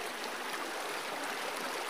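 Mountain river water flows in a steady, even rush, with constant broadband babbling close by and no voices or other sounds.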